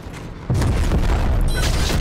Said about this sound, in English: Come on, rocket, don't fail me.